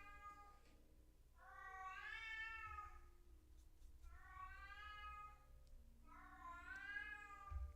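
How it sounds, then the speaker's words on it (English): A hungry, deaf 16-year-old cat meows three times, each a long, drawn-out, rising and falling cry, spaced a few seconds apart over a steady low background hum indoors. "She can meow as loud as she want."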